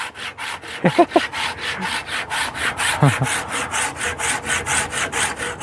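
A hand saw cutting through wood in fast, even back-and-forth strokes, close and loud, with a couple of brief voice sounds early on.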